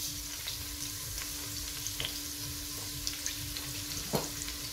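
White cumin seeds sizzle in hot oil in a pot, a soft continuous crackle with occasional light scrapes as they are mixed, close and fairly quiet, with no talking.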